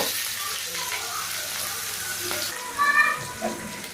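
Mustard seeds, fennel, curry leaves, green chilli and onion sizzling in hot oil, a steady close frying hiss with a few brief clinks and bubbling toward the end.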